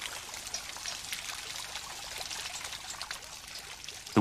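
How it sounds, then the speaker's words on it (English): Water pours and trickles steadily through a handmade water clock that drives an escapement wheel, a soft continuous flow followed by a sudden louder clunk at the very end. "The water acts like the weight on the church clock, pushing the escapement wheel round."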